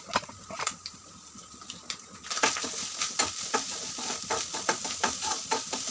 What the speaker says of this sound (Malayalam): ചട്ടി അടുപ്പത്ത് വെച്ചിട്ട് ലേശം വെളിച്ചെണ്ണ ഒഴിച്ചിട്ട് ഈ തേങ്ങ അതിലോട്ട് ഇട്ട് കൊടുത്ത് വറുത്തെടുക്കണേ.